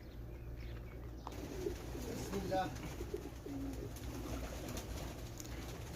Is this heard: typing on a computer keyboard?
no